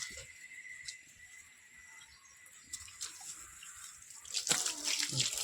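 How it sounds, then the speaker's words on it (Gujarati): Water runs quietly from a tap in a soft, steady stream. It grows louder and splashier near the end, with a few light knocks and clinks. "અત્યારે પાણી ચાલુ કરી દીધું છે"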